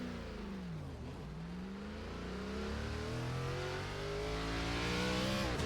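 ARCA race car engine in iRacing with a power-losing engine problem, droning steadily and close, its pitch sliding down then climbing through gear changes and rising revs, with no voices.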